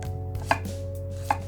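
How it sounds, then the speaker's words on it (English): Vegetables sliced on a bias with a knife on a cutting board, two distinct crisp chops about a second apart over a quiet steady hum. "And then I'm gonna cut these on a bias."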